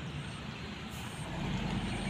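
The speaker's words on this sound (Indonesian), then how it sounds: "sungguh gagahnya bus NS yang satu ini" An NS intercity bus passes close by with a heavy engine rumble and a broad airy hiss, sustained and fairly loud throughout.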